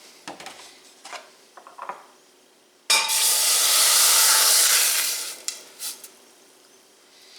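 Mushroom broth and milk hit a very hot pan, setting off a sudden loud hiss and sizzle that lasts about two seconds before fading, framed by light kitchen clinks and taps.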